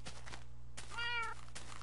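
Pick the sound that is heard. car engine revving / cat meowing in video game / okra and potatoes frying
cat meowing in video game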